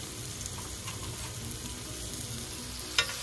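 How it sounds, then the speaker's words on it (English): A T-bone steak sizzles and fries steadily in melted butter in a pan, a continuous close crackle with a brief louder clink or stir near the end. "now we're gonna start basting our butter to the meat."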